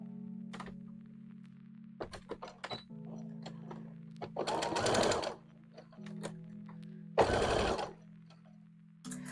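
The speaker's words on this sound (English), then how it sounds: "And now we're gonna sew these little triangles on the back." A sewing machine stitches small fabric triangles onto the back of an Appa plush in short bursts of rapid, loud needle clatter, separated by a low steady motor hum and occasional thunks of handling.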